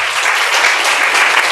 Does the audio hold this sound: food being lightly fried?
no